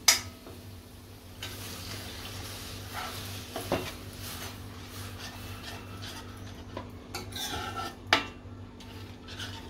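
A spoon scrapes and clinks around a pot of lentil curry in slow, soft strokes over a low steady hum, with no talking.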